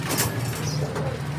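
Racing pigeons coo steadily and low, a continuous throaty murmur close by with no voices.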